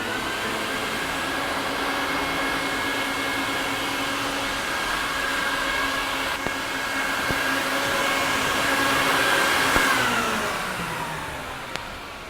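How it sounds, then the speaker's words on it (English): Wet extraction vacuum pulling cleaning product up through an Oriental rug from underneath, a steady loud whine and rush that holds, then dips in pitch near the end. "And then the vacuum from under the rug, pull everything through the rug."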